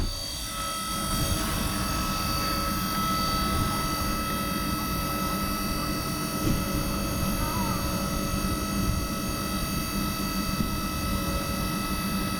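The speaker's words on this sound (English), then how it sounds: "this is the transformer there. It makes noise too." An electrical transformer at a 350 kW fast-charging station gives off a steady tonal hum with layered high whines, continuous and fairly close, with faint outdoor background noise.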